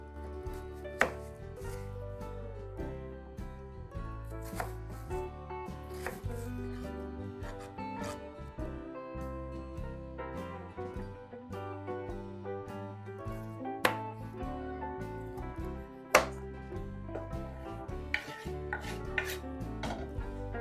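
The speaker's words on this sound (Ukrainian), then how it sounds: "Розпочнемо ми з нарізання моркви та цибулі" Steady knife chopping carrots and onions on a cutting board, rapid repeated thuds in an uneven rhythm, close and clear, with no talking.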